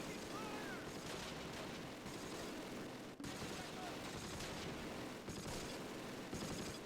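Sustained battle din in Close Combat, with an infantry gun firing amid continuous dense gunfire and booms that stay loud and unbroken throughout, with only a brief dip partway through.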